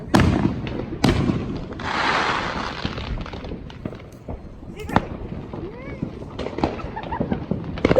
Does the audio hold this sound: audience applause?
no